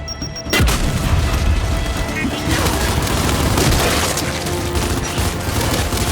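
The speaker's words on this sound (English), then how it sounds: "Throwing grenade!" A grenade goes off in the video game Gears 5 with a loud close boom, followed by heavy rumbling gunfire and battle noise that continues for several seconds.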